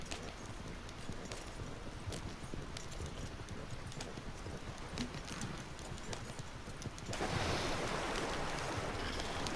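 A horse-drawn wagon rolls along in Red Dead, with steady clip-clop hoofbeats close by over a constant rumble of wheels and wind, which grows a little louder near the end.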